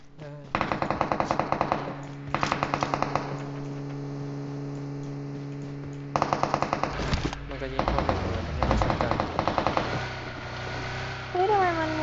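Rapid bursts of automatic gunfire ring out in the PUBG Mobile video game, several loud repeated volleys separated by short pauses, with a player's voice speaking briefly over the action.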